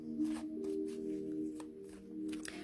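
Oracle cards being shuffled by hand for a reading, a soft steady riffle and shuffle running through the whole stretch, quiet and close, with a faint steady hum underneath.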